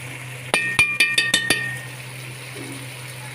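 A metal spoon clinks several times against a pot, in quick irregular taps, while masala for beef paya is stirred and fried. A steady low hum runs underneath, and the pot falls quiet afterwards.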